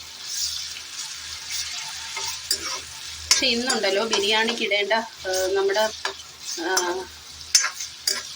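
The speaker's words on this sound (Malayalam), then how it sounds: "ഇത് ഈ ഉള്ളി ഇനിയൊന്ന് നമുക്ക് വറുത്തെടുക്കാം." Onions with a little salt sizzle in ghee and coconut oil, a bright crackling hiss with occasional scraping stirs, while someone talks over much of the frying.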